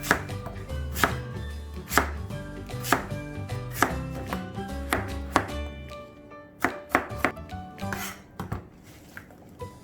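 Rapid, rhythmic knife chops through radish on a cutting board, crisp repeated thuds slowing near the end, close and clear with no voices.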